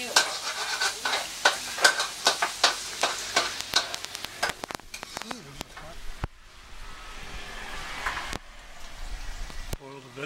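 Pad see ew for breakfast is stir-fried at a Thai street stall in Nakhon Si Thammarat, rapid rhythmic clanks of a spatula against a wok over sizzling, then quieter frying hiss with a few sharp knocks and a voice briefly speaking.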